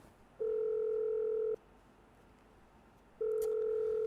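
Ringback tone of an unanswered phone call to a seller: two long steady beeps separated by a pause of about a second and a half, clean and fairly loud over faint background hiss.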